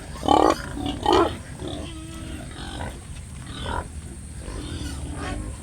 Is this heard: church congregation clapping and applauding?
no